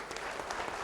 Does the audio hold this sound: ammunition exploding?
no